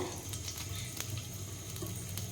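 Chopped ginger, green chili and garlic sizzle in a little oil in a pan, giving a quiet, steady crackling hiss with faint stirring taps scattered through it.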